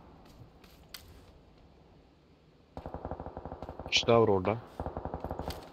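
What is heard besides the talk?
gunfire in a video game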